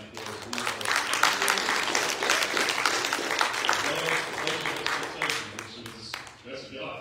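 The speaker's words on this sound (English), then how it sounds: "let's give God a round of applause for that" Church congregation applauding during a Sunday morning worship service, a dense, steady wash of many hands clapping at moderate distance for several seconds, with voices mixed in underneath.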